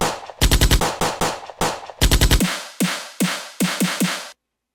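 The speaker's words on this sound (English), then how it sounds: "So right now I loaded up this Gunshot." A gunshot sample loaded in Ableton: sharp, punchy gunshots ring out in rapid bursts, then slow to single spaced shots with short decaying tails, ending abruptly in silence.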